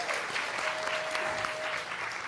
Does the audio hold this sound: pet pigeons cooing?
no